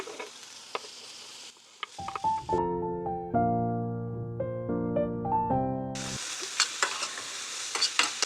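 Radish and coconut fry in a pan with a bright crackling sizzle and stirring, broken in the middle by a short electronic melody before the sizzling resumes.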